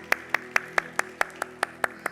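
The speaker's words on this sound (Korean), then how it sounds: "우리 영광의 박수 올려드립니다" Clapping rings out in a church during a Sunday worship service, heard as crisp, evenly spaced claps in a steady, brisk rhythm, close and distinct, with no talking.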